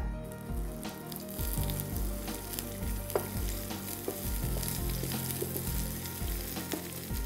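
Steady loud sizzling of chopped onion frying in a pan, with occasional stirring scrapes, no voices.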